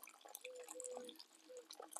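Faint trickling and splashing of boiled water poured into an Estonian Army ration pouch of oatmeal, a quiet continuous liquid stream with small gurgles and drips.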